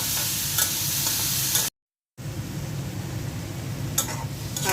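Prawns frying bhuna-style in a pan, a continuous close hiss and sizzle with occasional stirring scrapes, briefly cutting out to silence partway through before the sizzling resumes.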